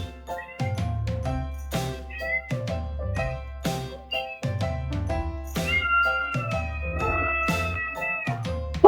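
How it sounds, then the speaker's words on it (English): A cat meows repeatedly in a voice that sounds like a person saying "oh my god", its rising and falling calls standing out clearly and loudly against a steady background hum, with no talk. "Out of nowhere, Kitty drops an "Oh my god.""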